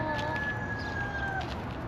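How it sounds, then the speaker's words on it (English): Free-roaming roosters crow and cluck nearby outdoors, with a drawn-out crow standing out over a constant background of wind and ambient noise. "there's just chickens everywhere. Well, roosters, I should say."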